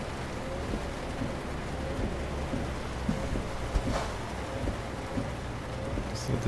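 Steady rain hisses over a truck cab in American Truck Simulator while driving through Portland, with a low engine rumble beneath and a faint, continuous wash of drops throughout.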